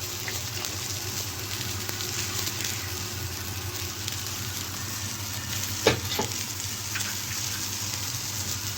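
Blended chard hits a hot pan for green ful with rice and beans, giving a steady, close sizzle and bubbling hiss with a brief stirring clatter partway through.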